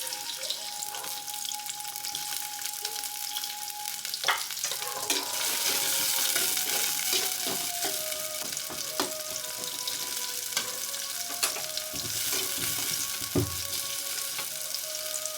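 Chopped onions frying in oil, a busy hissing sizzle that swells as they settle in the pan, marked by scattered pops and the scrape and clink of a spatula stirring, with no one talking.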